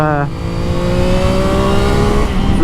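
A CFMOTO 675 NK motorcycle engine revs loud and close, holding a steady high-pitched whine with rising harmonic tones, while someone talks over it.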